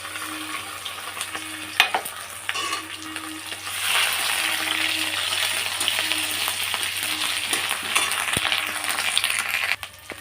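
Whole spices and grated coconut frying in a pan for hilsa pulao: a steady, close, loud sizzle with a low hum beneath, broken by a few sharp spoon taps against the metal.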